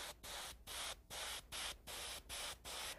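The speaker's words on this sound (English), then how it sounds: "I'm going to spray it down with some pearl bronze here" Short bursts of fine airbrush spray applying pearl bronze paint to a fingernail repeat in a steady rhythm, about six puffs with brief pauses between, close and fairly quiet.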